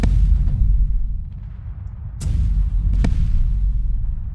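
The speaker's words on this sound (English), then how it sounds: "all of our turrets will also fire on it, even the turrets from over here. So you can see a fair amount of weapons fire." Warship turrets and big cannons fire in Space Engineers, heavy booming blasts layered over a continuous low rumble, with two sharp loud cracks standing out near the end.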